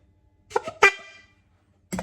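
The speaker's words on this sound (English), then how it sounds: "Have a honk." A few short honks from a squeeze horn, two quick blasts close together, then a brief pause and one more, loud and close.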